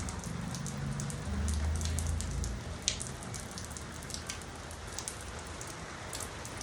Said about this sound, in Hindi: यहाँ शुरू हो गई है बहुत तेज़ बारिश